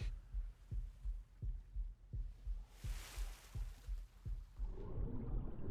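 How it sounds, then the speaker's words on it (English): Heartbeat sound effect from the video game Atlas, a steady lub-dub pulse thumping about every 0.65 seconds, low and prominent, with a rumbling watery swell rising near the end. "Oh, my heartbeat's going again."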